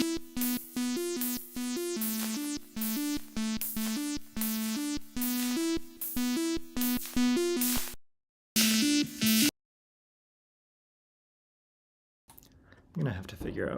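A bright synth melody from a MIDI sequencer in a Pure Data patch steps along in a steady, repeating sequence of even notes, cuts off abruptly, briefly resumes, then falls silent before faint noise.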